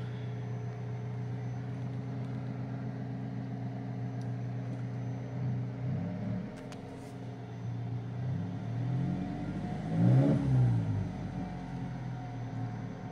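A 2016 Alfa Romeo 4C Spider with a 1750 engine idles with a steady low burble, then two quick revs rise and fall, the second louder and higher, heard up close with no talking.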